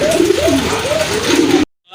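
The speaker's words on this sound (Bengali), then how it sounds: "মাশাআল্লাহ অনেক সুন্দর কবুতর, কিউট কবুতর" Pigeons coo close by in soft, repeated rolling calls that rise and fall, ending abruptly in silence.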